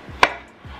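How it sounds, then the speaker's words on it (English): A single crisp knife strike on a cutting board while dicing tomatoes, a sharp close tap followed by quiet. "I'm dicing the tomatoes."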